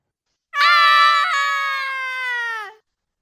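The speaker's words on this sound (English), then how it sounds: "Two girls screaming their heads off." A single sustained, shrill scream rises sharply, holds for about two seconds with a slight waver, then cuts off; loud and close in otherwise silent surroundings.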